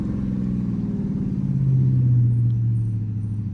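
A Dodge Charger R/T pulls hard on a late-night drive, its engine a loud, continuous low rumble that climbs in pitch and swells around the midpoint before easing slightly, with no talking over it.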